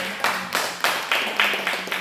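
Church congregation clapping together in praise during a Sunday service, a burst of applause with several distinct waves of claps over about two seconds, fairly close and loud, with no talking.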